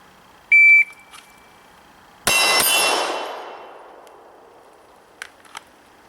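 A shooting range: a shot timer sounds one short beep, a Glock 17 shot follows as a loud crack with a ringing decay off a steel target, then two faint taps near the end.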